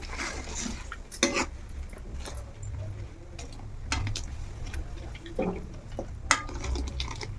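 A spoon stirring and scraping chutney in a bowl in a home kitchen, wet scraping strokes with several sharp clinks against the bowl, heard close up with no talk.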